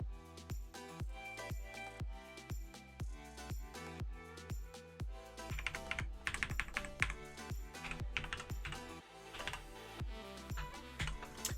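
Steady typing on a computer keyboard during a Raspberry Pi 4 Ubuntu setup, close crisp key clicks in an even rhythm with occasional faster flurries, no talking.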